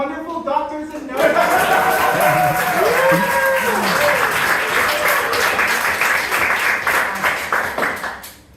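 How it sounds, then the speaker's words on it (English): After a moment of speech, a comedy audience at a ventriloquist's stand-up show breaks into full, sustained applause that holds steady for several seconds, with a few raised voices mixed in, then tapers off. "Let's get a round of applause going for our wonderful doctors and nurses"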